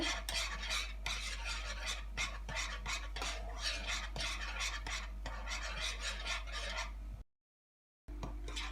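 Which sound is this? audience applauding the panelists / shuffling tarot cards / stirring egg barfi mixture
stirring egg barfi mixture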